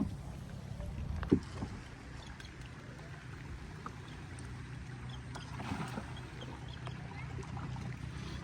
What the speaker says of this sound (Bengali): আমরা এখন নৌকা নিয়ে বের হয়েছি ঘোরার জন্য